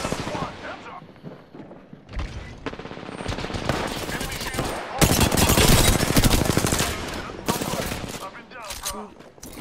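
Dense, close video game gunfire hammers in rapid automatic bursts with pauses between volleys, loud and sustained across the whole stretch, with occasional talk underneath.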